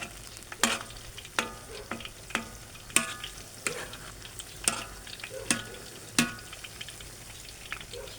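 Bananas frying in oil at a roadside stall: a low, even sizzle under a series of sharp metallic scrapes and knocks as the pieces are turned, roughly one every second, close and fairly quiet.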